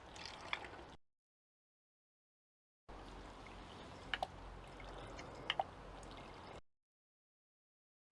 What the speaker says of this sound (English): Just pour it all in.